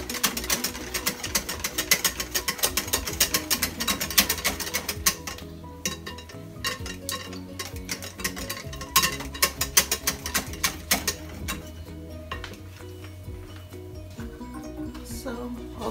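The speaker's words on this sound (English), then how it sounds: "So I'm gonna just whisk this completely to combine." Mashed banana being whisked in a bowl, a rapid rattling, clattering whisk against the bowl that runs steadily up close, then eases into lighter, more intermittent strokes toward the end.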